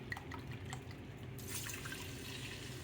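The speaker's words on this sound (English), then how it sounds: "Now you're going to add your 1/2 cup of your sherry." Half a cup of sherry pours into a hot pan of crab bisque base, a faint close trickle and drip that swells into a brief, louder liquid rush.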